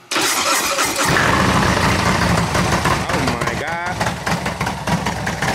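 A 2023 Ford F450 truck engine cranks and catches, then settles into a loud, steady idle heard up close, with a voice faintly audible partway through.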